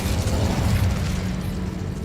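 A fiery Incendio spell explodes in Hogwarts Legacy, a loud rumbling burst with crackling, mechanical-sounding texture that lingers and tapers off briefly.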